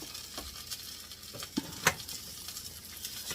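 Pre-cooked meatballs stirred in a hot pan on a stovetop: a steady soft sizzle with a few light scraping knocks from the spoon, close and moderately quiet, no talking.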